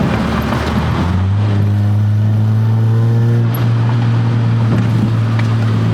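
A car engine revs up steadily, its low drone rising in pitch and holding loud and close, with a brief dip midway before pulling on.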